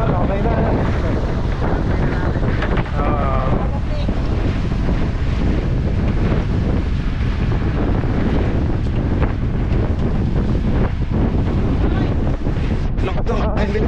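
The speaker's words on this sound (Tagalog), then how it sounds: "Lakas ng hangin dito." Strong wind buffeting the microphone in a loud continuous roar, with water and a boat engine faintly underneath.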